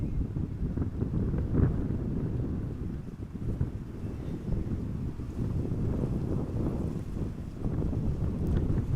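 Wind buffets an outdoor microphone at Amsterdam Schiphol Airport, a loud continuous low rumble and roar that swells and dips in gusts for the whole stretch, with no other clear sounds on top.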